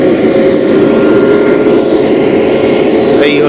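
The Steel Express diesel locomotive standing at the front of the train, a loud, close, steady engine drone with a deep hum that holds throughout, with a brief rising whine near the end.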